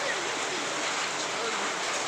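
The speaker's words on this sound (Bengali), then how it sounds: "এই দেখেন আমার বাসার সামনে প্রচুর বৃষ্টি ঢাকায়।" Heavy rain pours down outside a home in Dhaka, a dense, unbroken wash of hissing water that stays loud and even throughout.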